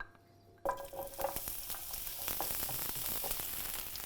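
Onions dropped into hot olive oil in a pan burst into a loud sizzle after a brief quiet start, settling into steady close frying crackle with occasional stirring clatter.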